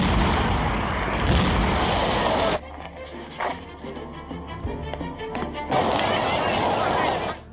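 A new car explodes as it is started while dangdut music plays, giving a loud broadband roar, then a quieter stretch of crackling debris, then a second heavy roar that fades out.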